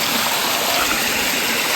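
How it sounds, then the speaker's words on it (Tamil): Waterfall near a temple in Puthur pours down into a deep pool, a loud, steady broadband roar of falling water close by, continuous throughout with no break. "அருவி மேலேருந்து கொட்டுற தண்ணி இது"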